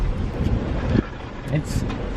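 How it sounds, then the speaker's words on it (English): Wind blowing outdoors buffets the microphone with a loud, steady low rumble for about two seconds, rising and dipping in gusts while people nearby talk. "It's really windy."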